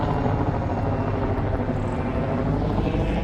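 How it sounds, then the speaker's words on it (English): A helicopter flying overhead, a loud continuous rotor drone with low rumble that holds steady throughout, with no talk over it. "they have a helicopter going overhead"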